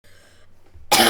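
A single sharp, loud cough bursts out near a microphone after a stretch of quiet low hum, harsh and broadband, lasting a fraction of a second.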